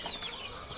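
Two-month-old kapas chickens clucking and peeping in a brooding pen, a brief, faint burst of high chirpy calls.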